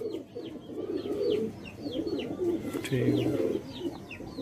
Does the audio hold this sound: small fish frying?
no